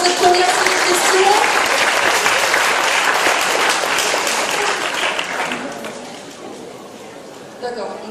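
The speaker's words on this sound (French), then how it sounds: "on applaudit les candidats pour cette première question" An audience at a general-knowledge contest final applauds the candidates, sustained loud clapping that gradually thins and fades toward the end, with a brief swell just before it stops.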